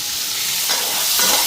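Potatoes hiss loudly and continuously as they fry in oil left over from frying fish, with a couple of soft stirring pushes, very close and without speech.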